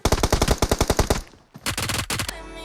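Rapid automatic gunfire in the PUBG Mobile game: a loud burst of about a dozen evenly spaced shots, a brief pause, then a second shorter burst with ringing tails.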